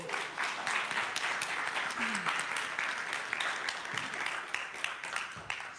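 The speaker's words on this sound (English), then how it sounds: "Let's give him another round of applause." A church congregation applauds steadily for several seconds, the clapping fairly close and even, with a few voices mixed in.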